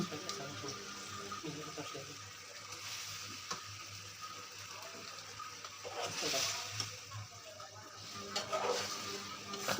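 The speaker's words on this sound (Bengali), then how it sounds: "মুরগি দিয়ে নাড়াচাড়া করে নেব।" Chicken sizzles as it is stirred into turmeric and chili spices in a pan, with a moderate steady hiss, scraping stirs and occasional utensil knocks, while a voice is faintly present at times.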